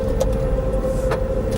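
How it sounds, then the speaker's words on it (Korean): A steady tonal hum from the pedestrian warning sound of a 2021 DPECO Potro small electric cargo truck, driven below 20 km/h, heard loudly from inside the cab over low road rumble. "시속 20km 이하에서는 이런 가상 사운드 소리가 들려요"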